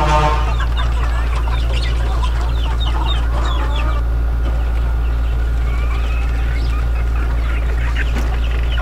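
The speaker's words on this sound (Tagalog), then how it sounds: "nakita naman ninyo na yung iba ng mga sisiw yan" Young black chicks in a brooder chirp and peep constantly, many high overlapping calls with some clucking, over a loud steady hum such as a fan or heater.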